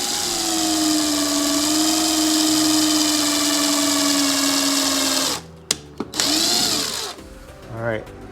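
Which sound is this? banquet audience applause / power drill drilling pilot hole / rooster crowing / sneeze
power drill drilling pilot hole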